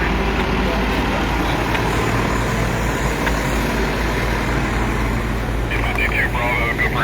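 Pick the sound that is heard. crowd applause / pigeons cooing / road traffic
road traffic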